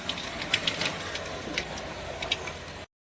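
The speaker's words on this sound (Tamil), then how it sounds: "கடுகு நல்லா வெடிச்சிடுச்சு" Mustard seeds and urad dal crackle in hot sesame oil in a pan, a quiet, dense spatter of small irregular pops over a soft hiss, steady for a few seconds before cutting off.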